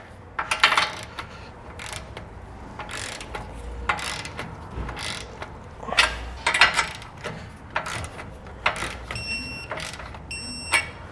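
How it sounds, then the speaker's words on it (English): A torque wrench tightens a bolt to final spec while air helper springs are fitted to a 2021 vehicle's rear suspension, producing repeated short ratcheting clicks in uneven bursts, close by, ending in sharper metallic clicks as the wrench reaches torque. "Switch over to our torque wrench here and torque it to the final spec."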